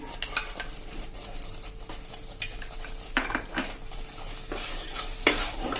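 A jaggery mohanthal mixture with milk stirred in a pan, with repeated clinks and scrapes of a spoon against the metal over a light sizzle, close and irregular.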